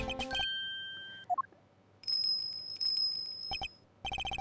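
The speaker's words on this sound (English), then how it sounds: "Is that a bell around its neck? That explains the sound, I suppose." In the Ace Attorney Investigations 2 video game, a bell on an animal's neck gives sharp ringing tinkles and chime tones in short bursts separated by gaps, mixed with game sound effects, with no voices.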